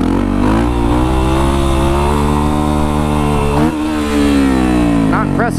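A Yamaha WR450 supermoto motorcycle engine revs hard in first gear, a loud steady harmonic drone that dips briefly near the middle and climbs again, ending with quick rising rev blips.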